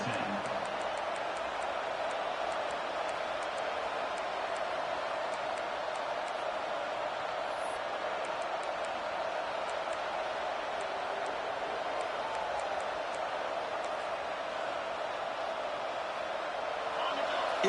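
Stadium crowd roaring at a college football video game, Clemson against LSU, a steady loud wash of cheering noise that holds unbroken throughout.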